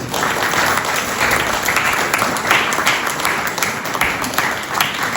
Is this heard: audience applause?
yes